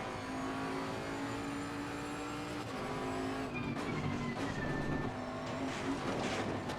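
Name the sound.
race car driving in Assetto Corsa Competizione video game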